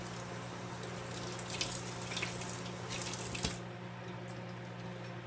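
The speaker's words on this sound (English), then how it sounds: "Really need to rinse these good." Tap water runs steadily into a sink while canned beans are rinsed, a continuous close splashing hiss with a few louder spatters, then easing slightly near the end.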